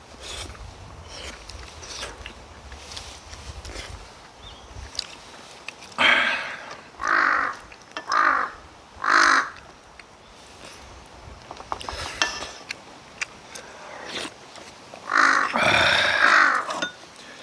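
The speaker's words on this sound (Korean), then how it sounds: "맛있는 것만 하면요 까마귀가 귀신같이 찾아옵니다" Crows caw outdoors in a series of loud, harsh calls, mostly single caws spaced a second or two apart, with a longer burst near the end over quiet background.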